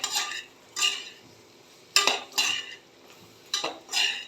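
Vegetables and tomato being sautéed in a pan for dalia khichdi, heard as a few distinct scraping stirs of a spoon against the pan in spaced pairs, over a faint low sizzle.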